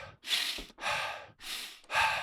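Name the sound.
forced mouth breathing, hyperventilation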